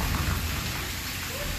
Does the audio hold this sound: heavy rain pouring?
yes